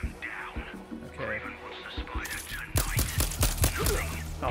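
Gunfire from MJ's gun in Marvel's Spider-Man 2: a few sharp shots cut through busy game noise and music, growing louder and denser in the second half.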